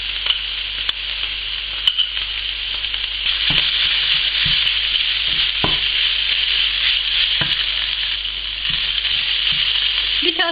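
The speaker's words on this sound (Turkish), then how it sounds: "Yarım yemek kaşığı da biber salçası ekledim. Kıymamıza koyuyoruz." Minced meat fries in a pan with tomato and pepper paste, giving a constant close sizzling hiss punctuated by scattered spatula scrapes and stirring taps, with no one talking.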